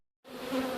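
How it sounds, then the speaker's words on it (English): Honey bees buzz at the top of the third deep box of a backyard megahive, a dense steady hum that starts abruptly after a brief silence and holds close and loud. "Look at these bees. This is the 3rd deep. Top of this box. They're just as happy as they can be. Just working away."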